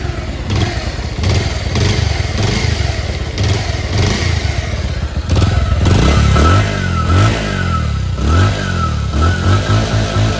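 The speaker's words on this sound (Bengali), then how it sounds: "বাইকটির সাউন্ড খুব স্মুথ আছে।" A used TVS Apache RTR motorcycle engine runs close by with a loud, steady idle, blipped into several short revs that rise and fall, with a clattering mechanical edge.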